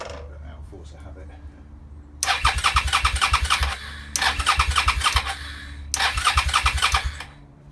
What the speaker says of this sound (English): So my starter motor is working again.